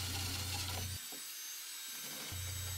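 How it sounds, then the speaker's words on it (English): A 1-inch spade bit drills through a wooden joist of a model railroad layout, a power drill humming loudly with rough grinding wood noise, pausing briefly in the middle before resuming. "I grab a 1-inch spade bit and go ahead and start drilling through so that I can have two pass-throughs"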